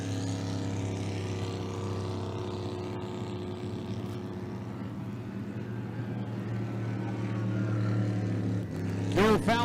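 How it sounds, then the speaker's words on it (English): The number 31 racing boat at the 2021 Parker Enduro roars past as a loud, steady engine drone that swells slightly near the end, with a brief rough burst as it closes in. "Bill Fallon goes flying by in the 31 boat."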